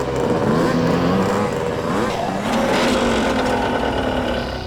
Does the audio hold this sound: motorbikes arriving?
yes